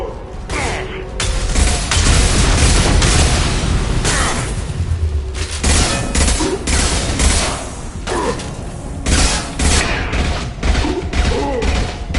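A concussive shot fires in the Mass Effect video game amid a dense, loud stretch of combat noise, with mechanical clatter, crashing impacts and booms running continuously throughout.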